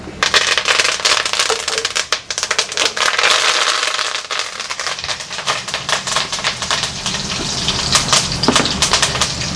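Dense, continuous crackling and sputtering of curry leaves frying in hot oil for sambar, loud and close throughout with no talking.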